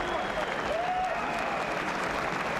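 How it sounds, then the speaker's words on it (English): A boxing crowd applauding at the end of a round in a WBO light-heavyweight title fight, sustained clapping and crowd noise with a voice audible over it. "the crowd waiting till the end of the round to applaud"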